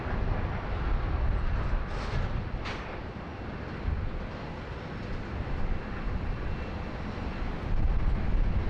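A LATAM Chile Boeing Dreamliner taxis for departure with a steady broadband jet engine rumble and a couple of brief higher whines, continuous and moderately loud.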